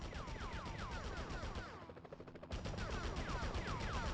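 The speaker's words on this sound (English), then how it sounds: "Enough with the shooting already!" Rapid automatic gunfire in the video game Spider-Man (2000), loud sustained bursts with a brief dip midway before the shooting resumes at full intensity, alongside whooshing swept effects.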